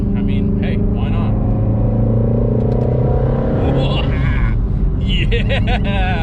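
Twin-turbo Mustang GT350R engine pulls loudly and steadily from inside the car, with rising harmonic tones as it accelerates, a faint turbo whistle above, and people talking throughout.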